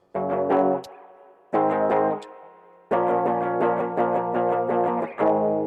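Distorted electric guitar strums chunky barre chords in short bursts, letting each ring briefly before a louder, sustained stretch of chugging strums.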